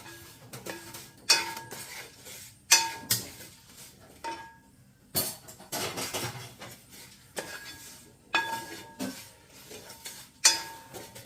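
Masala powder and dried red chillies roast in a pan for a bone and meat curry, with a spoon scraping and clinking against the metal in irregular bursts, close and fairly quiet.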